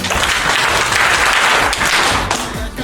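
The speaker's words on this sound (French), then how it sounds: "Applaudissez pour vous." Loud, close applause from a school audience in Cameroon clapping for themselves, a dense unbroken burst that tapers slightly at the end.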